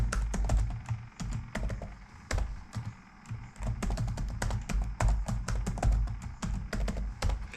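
Typing a username and password on a computer keyboard, with close, brisk, irregular key taps in dense bursts and short pauses between them.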